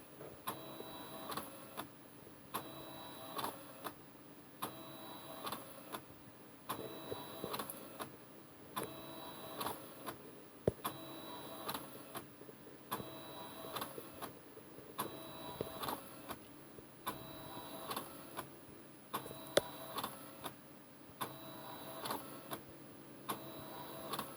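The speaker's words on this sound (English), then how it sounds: "You could probably speed up the printing quite a bit more by selecting a lower DPI setting." A Canon BJC-80 portable inkjet printer prints at full colour and high resolution, each pass a short whirring carriage sweep with faint ticks, repeating at a steady rhythm about every two seconds, close and quiet in a still room.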